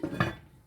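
A single soft metallic clink as a lid goes onto a cooking pot of curry goat, brief and close, fading quickly into quiet.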